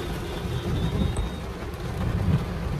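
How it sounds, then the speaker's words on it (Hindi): Steady rain falls under an elevated road during a traffic jam, a dense, even hiss with faint rumbling traffic beneath, close and continuous. "बारिश आ रही है ना इधर से बच रहे हैं"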